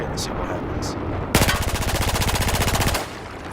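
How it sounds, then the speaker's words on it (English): A FAMAS automatic rifle in a video game fires one sustained rapid burst of about a second and a half, loud and close, after a short quiet lead-in with faint clicks. "So we're going to use the worst offender of recoil by far, the FAMAS."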